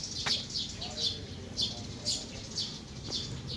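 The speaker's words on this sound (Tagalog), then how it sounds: "Kaganda ang mga parrot tsaka iba-ibang ibon." Birds, parrots among them, give a series of high chirps and calls at a resort in San Luis, sounding fairly faint at roughly half-second intervals over low background noise.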